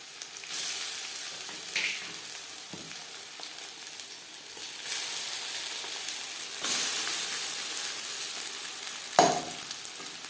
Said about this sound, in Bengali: পেঁয়াজ হালকা করে ভেজে নেওয়ার পর দিয়ে দেবো মানকচু বাটা।